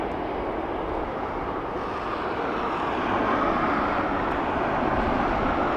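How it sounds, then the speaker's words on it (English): A Qatar Airways Boeing 787 Dreamliner from Doha roars steadily at Dublin Airport, a broad continuous engine rumble that holds loud and even, swelling slightly toward the end with no voices. "So that was our Dreamliner from Qatar"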